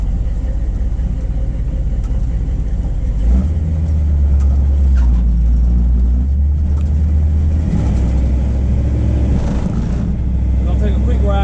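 A car engine drives and accelerates on a road trip, a loud low rumble that deepens and swells midway, with people talking over the engine noise.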